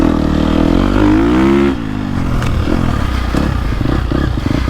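A 2022.5 KTM 250 Factory Edition dirt bike with a new shorter-stroke engine rides a trail, its engine loud and close, steady then easing off the throttle, with clattering from the chassis over rough ground.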